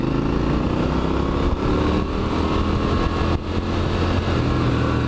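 A Triumph Street Scrambler motorcycle fitted with a loud Italian aftermarket exhaust and LED fog lights drones steadily and close, its deep harmonic engine note holding nearly constant with only slight dips in throttle.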